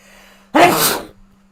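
A single loud, close sneeze bursts out after a brief quiet moment, then fades into near silence.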